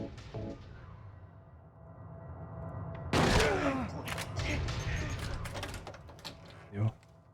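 A single shotgun blast in Silent Hill 2 on PS2 cracks sharply after a quiet stretch and trails off into clattering echoes, with a smaller thump near the end.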